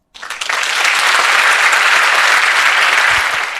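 A room full of people at a Korean Bible lecture applauds, loud, dense clapping that starts abruptly and holds steady for a few seconds.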